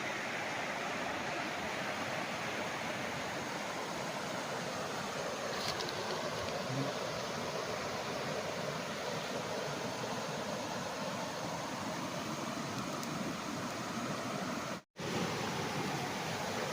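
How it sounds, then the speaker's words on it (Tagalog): A river running beside a farm lot in Cavinti, Laguna, a constant broad rushing wash of water with no voices, steady throughout apart from one brief dropout near the end. "Ang ganda ng ilog oh."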